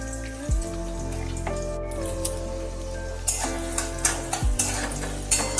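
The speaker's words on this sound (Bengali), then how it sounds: "ভালো করে ফোড়নটা একটু নেড়ে নিতে হবে যাতে পুড়ে না যায়" Five-spice seeds and chopped garlic sizzle in oil in a pan, a steady close frying hiss with a few sharp spoon scrapes and taps as it is stirred, under a faint tonal hum.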